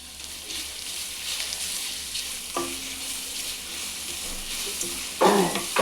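Food frying in a pan with turmeric powder being stirred in, heard as a constant close sizzle with occasional scrapes and clinks of a spoon and a louder stir near the end.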